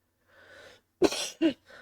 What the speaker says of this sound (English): just as he began coughing.